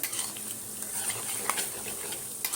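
Semolina nimki frying in oil are stirred in the pan, a steady soft sizzle with faint scraping and light clinks of the utensil, close by and continuous, no speech.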